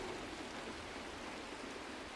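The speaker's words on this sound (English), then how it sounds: "It is raining!" Steady rain falls in Honkai: Star Rail, a constant hissing wash of drops with no breaks, fairly quiet and even throughout, with no voices over it.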